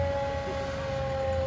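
A fire truck siren at a Christmas parade holds one steady, continuous wailing tone at moderate loudness. A low outdoor rumble runs beneath it.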